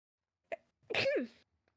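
A single sharp sneeze, a short intake followed by an explosive burst that trails off, close up with near silence around it.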